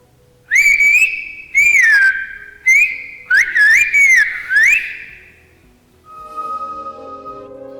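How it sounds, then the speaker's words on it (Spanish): Canarian Silbo whistled language: a run of loud, clear whistled phrases with rising and falling pitch glides in short bursts, ending in a quieter tonal sound. "feliz Día de Canarias en lenguaje silbado"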